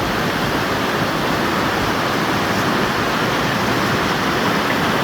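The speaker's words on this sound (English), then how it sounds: "we hear that obviously, but we hear more raging water" Raging water of Gold Creek near waterfalls on the Perseverance Trail in Juneau, Alaska, a loud, steady, close rushing roar that fills the whole stretch without pause.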